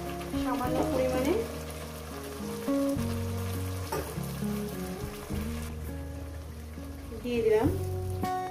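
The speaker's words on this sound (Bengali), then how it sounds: "এরপর দিয়ে দেবো মশলা বাটাটা।" Spice paste fries in hot oil for a chicken curry, a steady close sizzle running beneath tonal background music.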